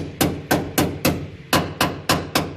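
Hard knocks on a freshly welded steel boot floor panel of a Landau car, eight evenly spaced sharp taps ringing briefly, close and loud with no talk.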